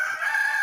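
A short, loud rooster crow rings out close by, a single sustained call lasting under a second.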